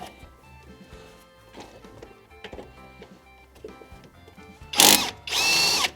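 A Kobalt 24V right-angle impact wrench with a 14mm socket breaks loose a car's brake caliper bolt: light clunks and handling noise, then two loud bursts of rapid hammering, the second sustained for about a second.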